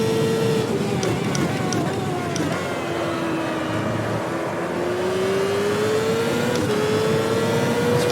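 Open-wheel CART race car engine in the Automobilista sim at Interlagos, a loud sustained drone with pitch sweeping down and rising again through gear changes, steady throughout.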